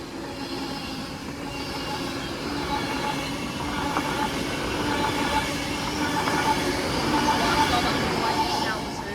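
Class 390 Pendolino electric train running from Glasgow Central to London Euston passes through Stafford station, a steady loud rumble of wheels and traction noise building slightly over the whole stretch, with faint voices underneath.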